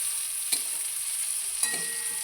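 Brinjal slices frying in oil, a steady soft sizzle with two distinct spatula knocks as pieces are turned over, close and quiet, no talking.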